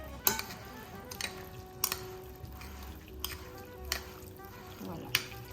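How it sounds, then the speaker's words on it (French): Moroccan mechouia salad being stirred together with fresh coriander and parsley in a bowl, with soft scraping and a few sharp utensil clicks against the dish over a steady low kitchen background. "Et maintenant, on mélange."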